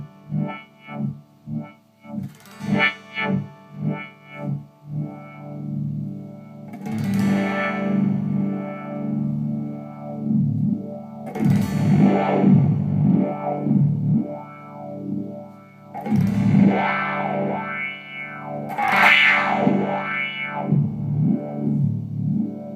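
Electric guitar run through a KNAS Ekdahl Moisturizer spring reverb effect with an LFO sweeping the filter cutoff, giving phrases of plucked, distorted chords that swell and wobble rhythmically, close and loud, with no talking.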